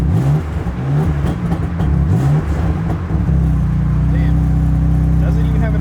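A lightly modified BMW M3 engine in Sport Plus mode revs and settles into a steady, deep drone, loud and close, with engine tone dominating throughout; a voice talks briefly over it.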